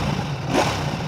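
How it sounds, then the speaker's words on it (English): A 2026 Ducati Panigale V4 superbike, clutch out and not in gear, revs its engine briefly with a twin-like tone; a steady close engine roar swells slightly in the middle of the short burst. "and if I rev it up a little bit"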